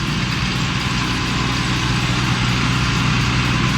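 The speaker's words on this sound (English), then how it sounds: "Suddenly, the engine roars from a side angle, heating up the whole atmosphere." An agricultural plowing machine's engine roars steadily in a field, a loud, continuous low rumble that holds without pause throughout.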